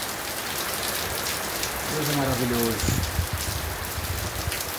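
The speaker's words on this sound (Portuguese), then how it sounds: "Muita chuva aqui em Piatã, glória a Deus." Heavy rain pours down at night in Piatã, Brazil, a dense, steady hiss of drops on surfaces, with someone speaking briefly over it.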